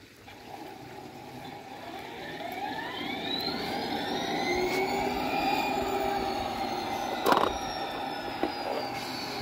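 A RailPro model locomotive starting up and running, a steady electronic motor hum with rising and falling synthesized engine tones sweeping over a continuous rumble, plus a brief clank partway through.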